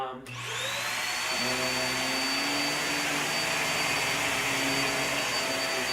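Hoover React Powered Reach Premier upright vacuum running on carpet, a loud steady motor whine with a high tonal hum that starts abruptly and drones on continuously for several seconds, no talking heard.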